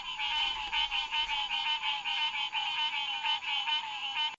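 Frogs croak at a five-acre pond at night, a dense, steady chorus of overlapping pulsing calls that carries on without a break at moderate loudness.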